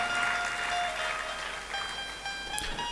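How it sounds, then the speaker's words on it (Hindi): A large audience at a Hindi religious discourse on Rudrabhishek claps hard, a steady dense wash of applause throughout the short stretch. "बहुत जोर से आपने ताली बजा दी है"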